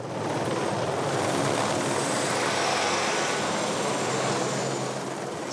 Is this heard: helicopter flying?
yes